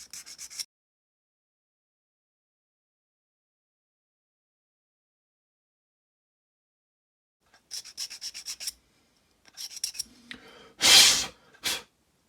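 Short scratchy rubbing strokes as a tire surface is sanded before gluing, one brief burst at the start, then after a long silence several quick close passes and a louder final scrub.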